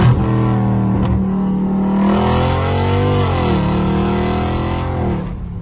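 A Dodge Scat Pack car revving hard in low gear, its engine roaring loud and close in a steady climbing pull that drops briefly and rises again across several seconds, with no talk.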